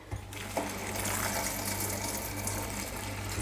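Water pours steadily into a pot of sapa plantain while it cooks, a continuous close gushing splash lasting a few seconds with a low hum beneath.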